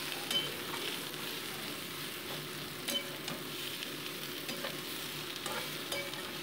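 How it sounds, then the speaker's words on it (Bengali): Vegetables with salt and turmeric frying and being stirred in a pan for fish chachchari: a soft, continuous sizzle with occasional scraping clicks of a spatula, fairly quiet and close, with no voices. "দিয়ে এটাকে মোটামুটি 2 মিনিট আমি ভালো করে ভেজে নিচ্ছি"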